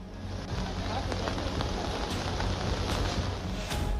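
Heavy monsoon rain pours in South Gujarat as a dense, steady roar of drops hitting surfaces, with occasional sharper splatters standing out.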